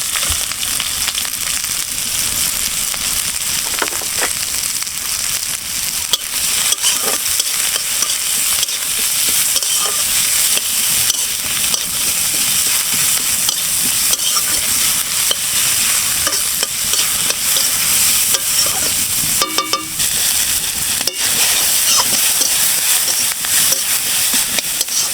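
Chopped onion and green chilli fry in ghee with a loud, continuous sizzle close by, while a spoon scrapes and stirs the pan throughout.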